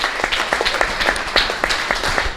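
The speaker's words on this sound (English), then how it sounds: "Give him a round of applause." A small audience applauds a panelist at an event, giving a short burst of close, uneven hand clapping that runs at a steady level throughout.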